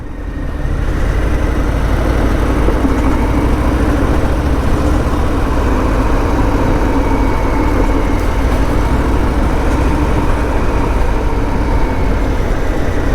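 A Harley-Davidson Fat Boy motorcycle engine runs while riding, a loud, steady low rumble that holds constant for about thirteen seconds with no speech.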